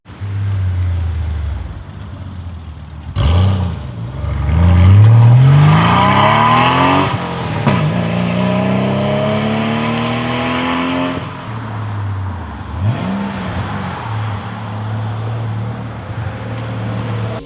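A Porsche 911 Carrera 993 with a 3.6-liter flat-six, as rendered in a Need for Speed racing game, revs hard and climbs through several gear changes, its engine note rising and dropping repeatedly. It is loud and close throughout, with no talk.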